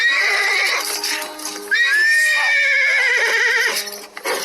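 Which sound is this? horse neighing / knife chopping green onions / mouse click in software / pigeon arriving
horse neighing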